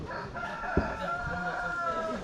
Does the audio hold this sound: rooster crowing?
yes